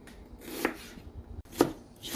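Lotus root is chopped into tiny pieces on a cutting board for Lao egg rolls, with three distinct, close knife thuds spaced roughly a second apart.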